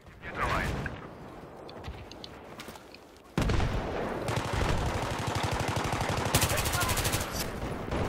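Heavy gunfire and a booming tank cannon in Battlefield 3 on the Grand Bazaar map, with loud continuous rapid bursts after a sudden blast, dense and close.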